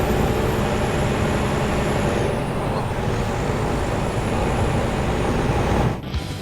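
A 2013 Mack Pinnacle truck with an M-Drive transmission climbs a hill near 60 mph. Its engine makes a loud, steady drone heard from inside the cab, which drops off abruptly near the end.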